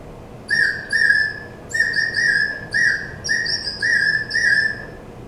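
A water-filled bird whistle blown in short warbling bursts, bright trilling chirps that imitate birdsong and repeat in an uneven rhythm, alone and fairly loud.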